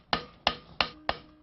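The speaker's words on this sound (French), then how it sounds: "Asséner des centaines, des milliers de coups de marteau." Hammer striking sheet metal while a weathervane is shaped by hand, five sharp ringing blows at a steady, slightly quickening pace, close and alone.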